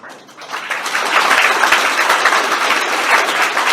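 A hall of first-year engineering students at an orientation session clapping together, starting thin and quickly swelling into steady, full applause that holds to the end.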